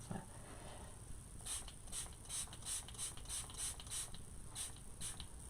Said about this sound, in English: to set it, I'm going to take it and I'm just going to mist it again